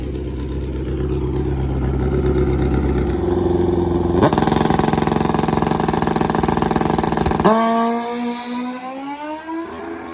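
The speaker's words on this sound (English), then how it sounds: "Uh-oh, the bike didn't shift." A drag racing motorcycle roars loudly through its run, the engine note climbing without a gear change before it abruptly jumps and revs higher, then eases off as it fails to shift.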